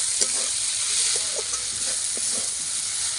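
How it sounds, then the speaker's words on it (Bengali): Greens being stir-fried in a pan with fried potato and beans, a steady close sizzle with intermittent scraping clicks of stirring throughout. "এবারে ভেজে রাখা আলু আর সিম দিয়ে দেবো, দিয়ে আরও 5 মিনিট শাকটা ভাজা ভাজা করবো।"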